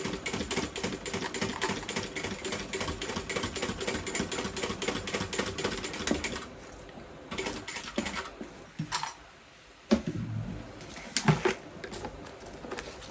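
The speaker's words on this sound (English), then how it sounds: "we're going to sew this at our seam allowance, at our full seam allowance" Sewing machine stitching the full-allowance seam of a canvas fold-over crossbody bag with D-rings, a fast, steady rattling run of stitches for several seconds, then short bursts separated by pauses.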